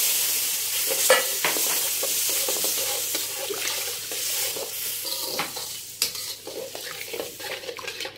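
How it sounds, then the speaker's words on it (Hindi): Semolina roasting for halwa hisses and sizzles as water is poured in over a lowered flame, with a spoon scraping and stirring the pan throughout at close range. "अब हम इसमें 2 कप पानी ऐड करेंगे।"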